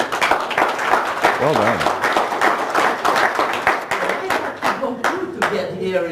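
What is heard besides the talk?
audience applause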